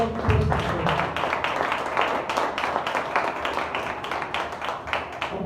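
A congregation clapping together at a Sunday church service of a Full Gospel ministry, a dense, steady, rhythmic patter of many hands that continues throughout.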